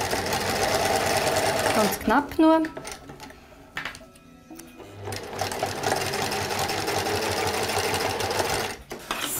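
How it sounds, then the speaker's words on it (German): A sewing machine stitches together folded fabric pieces for toy unicorn ears, its rapid mechanical whirring running in bursts with short pauses, close by, while someone speaks briefly in German. "nähe ich das jetzt mal mit der Nähmaschine zusammen"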